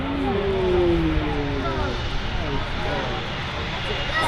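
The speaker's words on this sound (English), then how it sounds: "The Emirates A380 on the taxi out." An Emirates Airbus A380 taxiing out at Manchester Airport, a steady broad engine roar with a falling whine early on, continuous and fairly close, with people talking over it.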